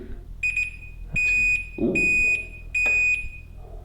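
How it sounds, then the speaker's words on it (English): Beeps from a Chamberlain RJO70 wall-mount garage door opener as it connects to a home network, three loud sustained electronic tones in a row over a faint background, with a brief exclamation from a person. "I hear a series of beeps."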